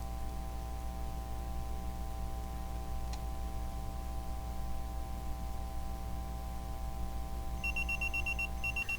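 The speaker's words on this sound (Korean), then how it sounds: "경고창과 플레이어를 확인하고 알람을 끄겠습니다" A timer alarm from an App Inventor alarm app beeps in a short repeating burst near the end, preceded by a faint tick, over a steady electrical hum with no speech.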